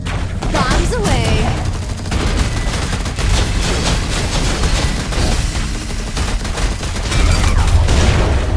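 Bombs explode in the Master x Master video game as a dense, continuous barrage of loud booms and rapid gunfire-like bursts, with no pauses.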